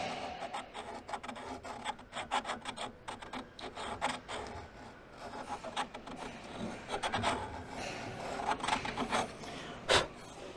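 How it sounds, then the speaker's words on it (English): Sandpaper wrapped around round aluminum tubing smooths a curved part on a Minimax 1100r aircraft build, giving a close, steady run of raspy back-and-forth rubbing strokes that swell briefly near the end, with no voices. "got a round piece of aluminum tubing with some sandpaper on it, just to smooth that out, smooth that curve out a little bit"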